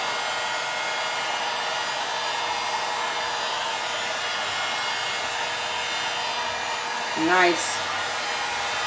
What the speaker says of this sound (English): Sometimes they just pop right up as soon as the heat gun hits it